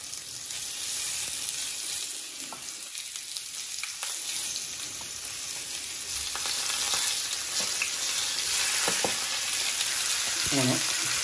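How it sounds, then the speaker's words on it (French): Marinated beef skewers searing in hot oil in a frying pan, a steady loud sizzle and crackle throughout with occasional spatters and clinks of handling. "كنديروا الزيت ديالنا في المقله حتى تسخن مزيان باش نحطوا لي بروشيت ديالنا يتكولوراو مزيان"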